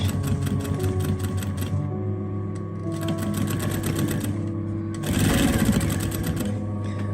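A sewing machine stitches velvet for a Roman blind slowly on a large stitch setting, its needle tapping in rapid mechanical bursts separated by short pauses, close and clear with no talk.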